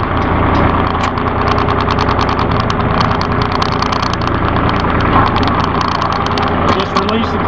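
A Massey Ferguson 1734E compact tractor runs in gear, its engine holding a steady, loud, knocking drone at set speed throughout, close and continuous.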